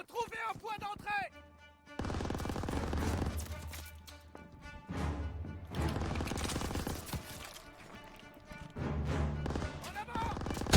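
Rapid machine gun bursts and scattered gunfire from a Call of Duty WWII battle in a street, loud and sustained with short lulls, mixed with shouted voices.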